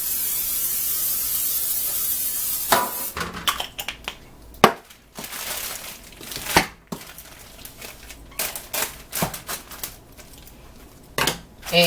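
A steady hiss of cooking spray onto a pan at the start, followed by scattered clicks, taps and clatter of kitchen items.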